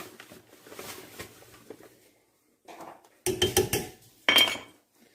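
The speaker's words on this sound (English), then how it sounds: "Give it a whisk." A whisk beats cream of mushroom soup in a metal pot during canning prep, giving two loud bursts of rapid clinking and scraping against the pan, each about a second long, after a quieter stretch of faint kitchen clatter.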